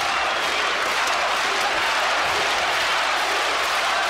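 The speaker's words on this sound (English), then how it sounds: "Crowd getting behind Arthur Abraham" A boxing arena crowd roars and applauds for Arthur Abraham during a title bout against Jermaine Taylor, a dense, loud, continuous wash of cheering that never lets up.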